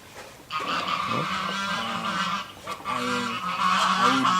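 A goose honks repeatedly at close range in loud, rasping calls with short breaks between them, heard alone without talk.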